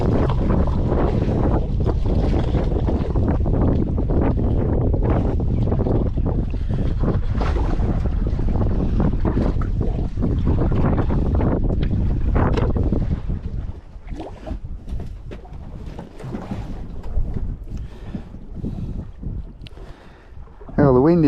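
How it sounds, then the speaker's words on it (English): Steady wind noise and water rush aboard a fishing boat drifting on the open sea, loud and continuous for most of the stretch, then easing into gustier, lighter buffeting with faint movement near the end. "the wind is doing what it was forecast to do, and it's picking up"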